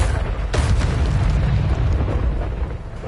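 A Bombarda spell explosion in Hogwarts Legacy lands as a loud, booming blast with a sharp onset, followed by a dense, rumbling roar that stays heavy and close throughout.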